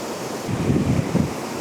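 An autumn waterfall rushes steadily with foam at its base, a continuous broadband roar heard close by, with no voices.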